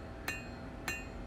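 Hammer blows on hot steel while drawing out a small hand-forged blade, two sharp ringing strikes about half a second apart, close and distinct over a quiet background.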